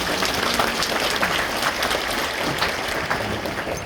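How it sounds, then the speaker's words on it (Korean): A church congregation applauds together, dense sustained clapping that fills the hall evenly throughout without speech. "우리 영광의 박수를 올려드리도록 하겠습니다."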